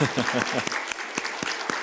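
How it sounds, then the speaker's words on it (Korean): A church congregation welcomes children at a Korean worship service with clapping: someone speaks briefly first, then a handful of sharp, scattered claps ring out nearby in an uneven rhythm. "박수로 한번 환영하겠습니다."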